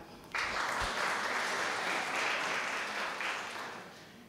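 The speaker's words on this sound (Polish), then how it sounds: "Brawa!" Audience applause at a cultural ceremony honouring culture workers in Barlinek, Poland: a crowd bursts into sustained clapping that holds steady and then slowly fades toward the end.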